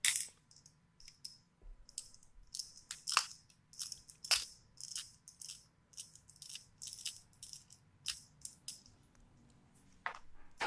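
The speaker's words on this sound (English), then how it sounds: "All I got to do to free the cylinder up is take the 4 screws out of the back" Small metal parts of an EVVA 3KS lock cylinder clink and rattle as screws are taken out to disassemble it, a quiet run of sharp, scattered ticks and taps spread across the whole stretch with no talk.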